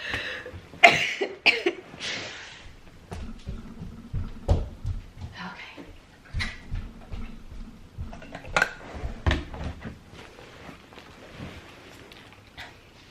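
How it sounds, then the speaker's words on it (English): Several sharp coughs mixed with throat clearing, close by, alongside a person talking, clinking dishes and a cupboard knock. "I'm going to cough a little bit throughout this"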